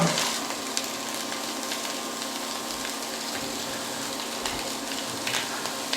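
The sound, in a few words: pancetta sizzling in pan for ragù bolognese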